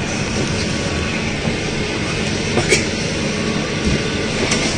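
A train runs through Uzbekistan, heard from inside a carriage as a steady loud rumble with faint rattles and clicks of the running gear and no clear talk.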